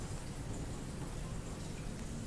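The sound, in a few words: rain falling in video game Ad Infinitum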